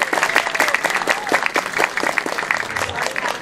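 An audience claps at a Balinese Calonarang temple performance at Pura Penataran, a brisk, dense patter of many hands, lively and fairly close, with faint voices mixed underneath.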